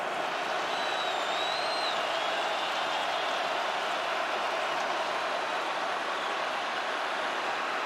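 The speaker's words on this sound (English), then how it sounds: "Crowd on its feet, 2nd and long." A football stadium crowd during a 2022 ACC college game between Virginia and Syracuse, a dense, continuous roar of cheering fans holding steady and loud throughout with no breaks.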